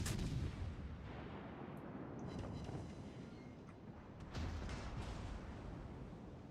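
Naval guns firing in World of Warships Legends, heavy booming artillery blasts with rumbling low-end that rolls on continuously, a big report at the start and another around the middle.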